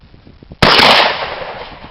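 A single sharp rifle gunshot cracks close by at an outdoor highland shooting practice, followed by a fading echo, with faint low murmuring before the shot.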